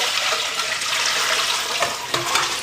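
Brine water pouring and draining off a brined chicken, a steady splashing trickle of liquid that runs without a break, with a few small sharper spatters near the end and no voices.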